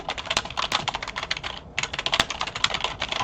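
Steady clatter of computer keyboard typing while entering a chart title in an Excel spreadsheet, dense rapid keystrokes close up with a brief pause midway, no talking.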